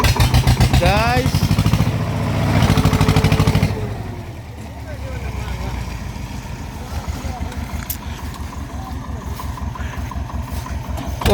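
A Swaraj tractor engine runs with a loud, close, steady rhythmic chugging that revs up early then settles into a lower pulsing idle, with someone talking over it.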